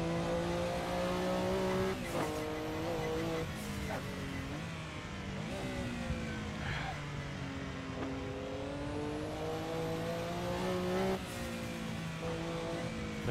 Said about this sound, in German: Ich freue mich so auf den Porsche. Der hat so einen geilen Sound. Wenn der Turbo einmal hochspult